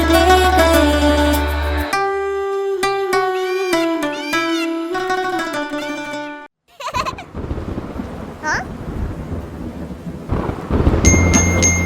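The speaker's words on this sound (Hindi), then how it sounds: "बारिश आई छम छम छम" Rain and thunder in an animated Urdu nursery rhyme, arriving after a bright synth melody ends: a rumbling crack of thunder followed by a steady hiss of falling rain, with a brief cat-like meow and music returning.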